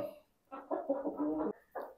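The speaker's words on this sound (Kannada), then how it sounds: "ಎಲ್ಲ ಕೋಳಿಗಳು ಆರಾಮಾಗಿದ್ದಾವೆ, ಯಾವುದೇ ಸಮಸ್ಯೆ ಇಲ್ಲ." Chickens in a coop make soft, close-up clucking and murmuring in a couple of short bursts.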